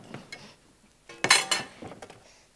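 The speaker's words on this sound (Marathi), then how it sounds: "गॅसवरचा तवा काढ आणि तेल ठेव." A metal griddle pan lifted off a home gas stove, giving a few close clanks and clinks of cookware, the loudest burst in the middle, with lighter knocks before and after.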